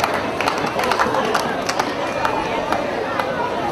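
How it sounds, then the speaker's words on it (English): A church congregation applauds the planning committee during a Catholic thanksgiving Mass marking a parish's 50th anniversary, with steady, moderately distant clapping and crowd murmur spread through a reverberant hall. "Can I have a round of applause for them all,"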